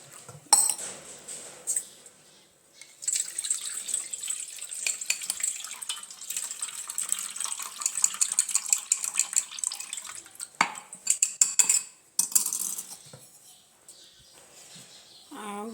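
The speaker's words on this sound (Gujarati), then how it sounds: "ગોળ આંબલીનું પાણી છે તે થોડુંક ગાળીને નાખી દેવી." Jaggery-tamarind water is strained for pani puri in a kitchen, with quiet, scattered clinks of metal utensils and a soft trickle of liquid, broken by short pauses.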